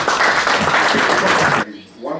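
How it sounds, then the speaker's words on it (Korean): Dense, loud audience applause at a Korean international forum on progressive politics and elections fills the room, then cuts off abruptly, followed by a brief moment of quieter voice. "그 두 분께 박수를 보내드리죠"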